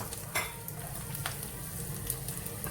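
Sliced ginger frying in hot oil with mustard seeds and fenugreek for a shark fish pickle, a steady close sizzle with occasional stirring scrapes and light clinks of a pan throughout.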